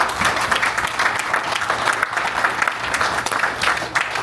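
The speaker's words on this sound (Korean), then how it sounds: "격려와 응원의 박수를 한번 부탁드립니다." Audience applause of encouragement fills a community meeting hall, a steady, dense clapping from many hands that carries on throughout without pause.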